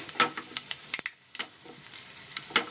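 Mustard seeds, cumin and dried red chillies frying in hot oil for a curry tempering, giving a close sizzle with scattered sharp pops and crackles in quick irregular bursts.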